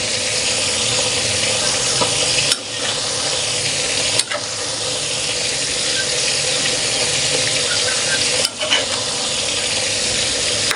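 Squash flowers being stirred in a hot pan, with a steady loud sizzle and occasional scraping clicks from the utensil against the pan, no voices.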